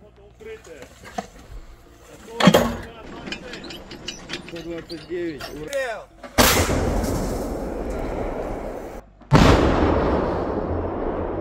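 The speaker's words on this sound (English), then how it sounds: "Выстрел! Выстрел!" Loud artillery firing as Russian guns fire at Ukrainian forces near Krasnoarmeysk, with several heavy booming blasts and long rumbling tails, shouted voices calling out between the shots, and a clicking mechanical rattle from the gun.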